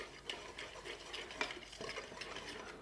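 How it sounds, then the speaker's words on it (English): Brown sugar Swerve and almond flour being whisked together in a bowl, giving a soft, steady scraping and clinking of the whisk with repeated light strokes, fairly quiet and with no talking. "Now I'm gonna use my whisk just to combine those and kind of break up that brown sugar Swerve just a little bit."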